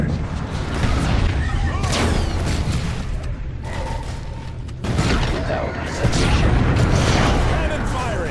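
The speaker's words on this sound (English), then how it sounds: "Cannon firing! Clear the target area!" Cannon fire in Warhammer 40000 Dawn of War 2: loud repeated booms and crashing blasts in dense, continuous battle noise, with voices talking during the fighting.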